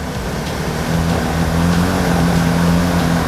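A 400cc 4x4 cargo ATV engine pulls in third gear with a steady, loud drone that builds slightly as it accelerates. It runs close and continuous, with no talk over it.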